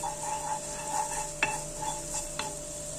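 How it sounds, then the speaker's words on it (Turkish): Grated garlic, two cloves, sautéing in heated oil for a beet and chickpea salad: a steady soft sizzle with light stirring scrapes and a couple of sharp utensil clicks against the pan. "2 diş rendelenmiş sarımsak ilave ediyorum ve biraz sarımsağı kavuruyorum."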